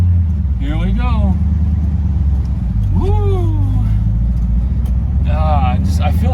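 A 1971 Ford Torino GT convertible with a 429CJ engine and four-speed manual accelerates with the top down, its deep, loud engine rumble continuous beneath cheerful voices and a whoop.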